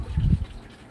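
A dinosaur figure, a Mosasaur toy from Jurassic World Dominion, is dropped into a 36-gallon bowfront aquarium, making one brief, close, low splash and gurgle that settles quickly.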